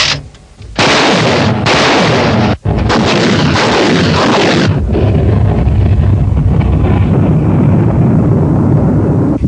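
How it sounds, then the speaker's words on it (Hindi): A rocket-delivery mine system fires landmine-carrying rockets: very loud, roaring blasts with a brief gap near the start, then a long rumbling roar that fades slowly in open air. "बारूदी सुरंगों को रॉकेट के जरिए फेंका जाता है।"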